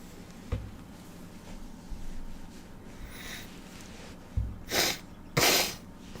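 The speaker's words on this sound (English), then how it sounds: "Oh, I keep sneezing here." Two sharp sneezes burst out close by near the end, after a stretch of quiet breathing and small sniffs.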